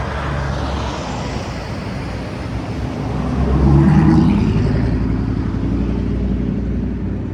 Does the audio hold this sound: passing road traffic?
yes